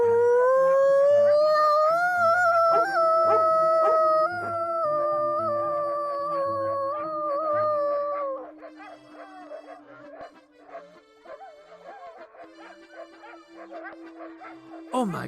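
Several dogs howl loudly together in long, rising and wavering tones that hold for about eight seconds, then break into scattered yips, whimpers and barks, with a voice talking over them.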